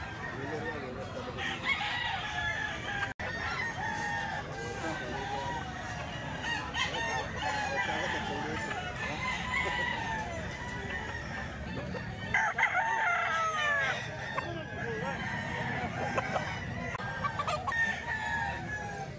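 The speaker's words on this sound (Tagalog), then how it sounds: "Ito mga bossing, isang Golden Boy sweater." A Golden Boy sweater gamecock rooster crows repeatedly at moderate distance, its calls rising over a busy backdrop of other chickens clucking and crowing throughout.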